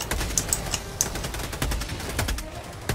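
Rapid video game gunfire crackles in dense, overlapping bursts, steady and fairly close throughout.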